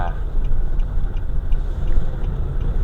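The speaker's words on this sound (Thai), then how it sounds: "นี่ผมก็ขับมาเรื่อยๆตอนนี้ เออจะมายูเทิร์นนะครับ" A car cruising along a road, heard from inside as a loud, steady low rumble of engine and road noise with no breaks.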